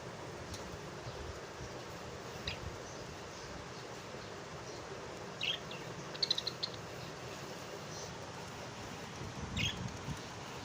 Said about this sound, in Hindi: बहुत ही खूबसूरत और प्यारे प्यारे कलरफुल ये तोते।